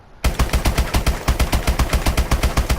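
An MK14 marksman rifle fires in Call of Duty Advanced Warfare, a rapid, evenly spaced string of loud, close gunshots that runs without a break.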